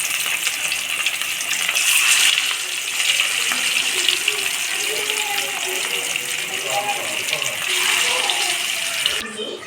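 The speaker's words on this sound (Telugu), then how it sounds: "నూనె బాగా వేడెక్కిన తర్వాత చేప ముక్కలు నూనెలో ఇలా వేసుకోవాలండి" Fish pieces dropped into hot oil in a pan on a stove set off a steady, loud sizzle and crackle that lasts throughout, with a voice speaking faintly over it.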